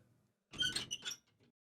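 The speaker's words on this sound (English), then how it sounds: "a creaking sound came from the hallway across the lobby" A hallway creak in the video game Chaos;Head Noah: a short, fairly loud squeaky creak like an old door, made of two or three strained pulses, then a faint trailing squeak in an otherwise silent space.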